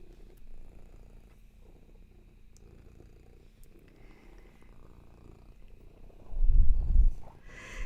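Close, soft purring from a cat rumbles steadily and swells much louder near the end.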